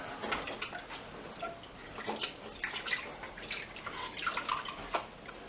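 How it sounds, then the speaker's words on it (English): Water splashes and drips as a sponge from a Fluval 406 canister filter is rinsed, an irregular run of close trickles and splatters with no voices. "Rinse the sponge."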